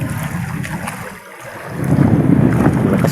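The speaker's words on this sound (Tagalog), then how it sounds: "Malakas ang hangin." Strong wind at sea buffeting a microphone aboard a small boat on rough water, a loud roaring rush with low gusty rumbles that dips briefly, then swells back harder, with no voices.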